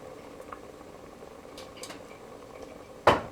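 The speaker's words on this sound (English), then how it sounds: "we're starting to achieve a boil down in this corner of the pan here" Roni rice starts to come to a boil in a pan, a faint, low bubbling simmer that runs steadily before a sharp metallic clink near the end.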